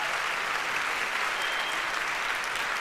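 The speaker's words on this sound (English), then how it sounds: "We'll give her a round of applause for taking care of that." Sustained applause from a TEDx talk audience, a dense, even wash of many hands clapping at steady loudness throughout, with no speech over it.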